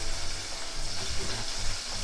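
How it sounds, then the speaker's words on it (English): Flour-coated chicken frying in hot oil, a steady crackling sizzle with soft popping, close and even, with no voices. "And when you hear it start to sizzle"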